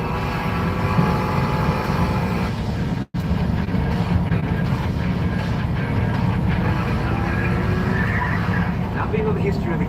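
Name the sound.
Mazda Miata doing a long tire burnout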